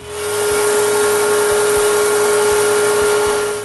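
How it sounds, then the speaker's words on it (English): Wooden finger joints being sanded flush with a power sander after the glue has dried, a steady loud whirring hum with a constant tone, continuous throughout with no talk. "Now that the glue is dry, I sand the protruding fingers."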